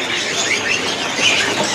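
Caged songbirds chirp at a bird market stall where thrushes are sold, the bright high calls overlapping continuously in a busy wash of market noise.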